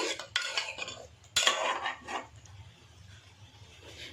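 A spoon stirs an egg mixture with water in a metal vessel for egg curry, giving close clinks and scraping that fade to quieter rubbing.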